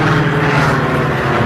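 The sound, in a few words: failing light aircraft engine losing altitude, radio drama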